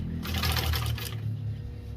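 A commercial upholstery sewing machine binds the edge of automotive carpet, running in one loud, close mechanical burst of rapid stitching that then drops to a low hum.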